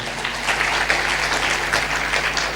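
Sermon congregation clapping loudly in a sustained, dense burst of applause that runs steadily throughout without pause.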